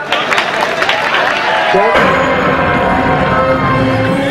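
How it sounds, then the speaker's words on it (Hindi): A crowd at a fun walk health event in Meerut, India claps and cheers loudly and continuously, with voices mixed into the applause throughout. "Come on everybody, guys, तालियां होनी चाहिए।"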